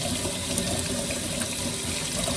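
Tap water runs steadily over a makeup brush being rinsed at a sink, a constant close splashing hiss with no pauses and no talking.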